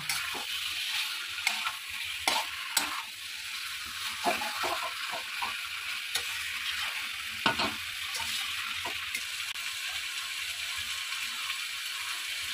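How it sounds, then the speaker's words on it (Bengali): Chicken pieces are sautéed in a pan for a spicy Bengali chicken kosha, a steady frying sizzle broken by sharp scraping stirs of the spatula at irregular intervals, no speech. "তো এবার আমি মাংসটাকে বেশ কিছুক্ষণ ধরে ধৈর্য সহকারে কষিয়ে নেব।"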